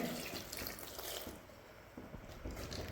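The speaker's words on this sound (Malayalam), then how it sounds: "വേവാനാവശ്യത്തിൻ്റെ വെള്ളം കൂടി ഒഴിച്ചു കൊടുക്കുന്നുണ്ട്" Water poured into a cooking pot of salted fish curry ingredients before pressure cooking: a steady, faint splashing gush running throughout with no talk.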